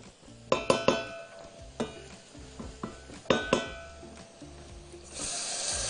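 Chili goes into hot oil for Egyptian koshari, with sharp metal spoon clinks and taps against the pot, followed by a sudden surge of loud, close sizzling near the end.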